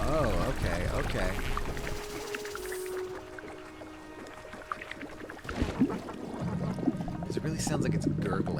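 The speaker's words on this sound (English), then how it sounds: "Because it really sounds like it's gurgling." Water wheels in the video game Planet of Lana 2 gurgle and pour in a steady watery wash, with sloshing rising toward the end, while a person talks over it.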